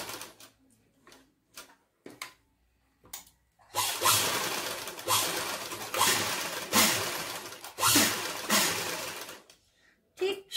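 Sewing machine stitching fabric for a bow, starting with a few slow clicks, then running in a loud close whirring burst broken by brief stops before a final short click.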